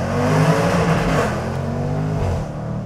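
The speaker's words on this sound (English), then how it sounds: "That was a rev limiter, whoops." A Jaguar F-Pace SVR, a 550 hp SUV, revs hard near an overpass and hits its rev limiter, a loud, close, brassy engine roar holding steady before easing off at the end.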